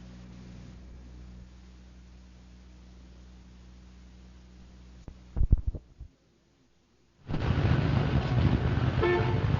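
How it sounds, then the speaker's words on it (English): A radio-drama sound effect of car horns in a morning traffic jam: a low sustained tone, a short cluster of toots, a brief silence, then a dense burst of traffic noise. "here we are again, 7:30 in the morning and sitting in another traffic jam"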